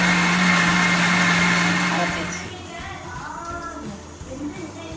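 A kitchen mixer grinder grinds a coarse spice paste for a Nagercoil fish curry with a steady motor whine for about two seconds, then winds down while a person speaks over the fading hum.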